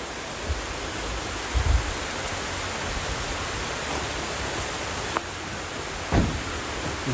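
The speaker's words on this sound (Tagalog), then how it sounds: "Ulan na." Rain falling outdoors as a steady, even hiss, with a few soft low thumps scattered through it and no voices.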